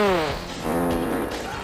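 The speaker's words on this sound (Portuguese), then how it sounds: "Logo um peidão!" A cartoonish fart sound effect blasts loudly in GTA V on PC, a long buzzy, wavering tone that fills the short moment on its own.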